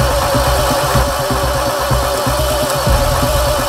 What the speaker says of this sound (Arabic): المحرك بيشتغل بسلاسة لكنه مش بيدور